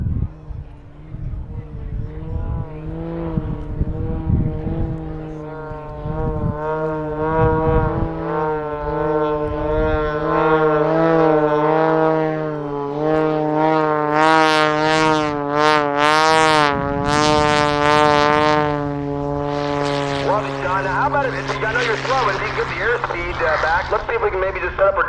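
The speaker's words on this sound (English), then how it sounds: "using all 350 horsepower of that engine to keep the aircraft flying" A 350-horsepower Pitts aerobatic propeller airplane engine drones steadily at low speed near wing stall speed, its pitch rising and swelling louder partway through, with a voice speaking over it.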